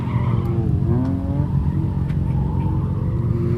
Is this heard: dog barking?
no